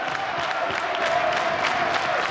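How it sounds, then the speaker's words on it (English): A wrestling arena crowd at a tag-team match roars in a continuous wash of cheering and applause, loud and sustained over the whole short stretch. "Puma now trying to rally the crowd and his partner."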